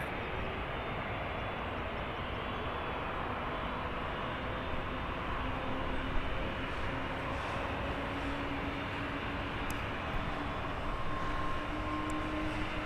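A Jet2 airliner at Birmingham Airport gives a steady, distant broadband roar of jet engines that holds for several seconds with a slight rising whine, heard alone without talk.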